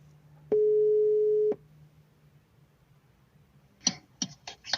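A telephone call tone sounds while someone is being called: a single steady beep about one second long, followed by a pause and then a few short clicks and crackles on the line, close and clear with no talk.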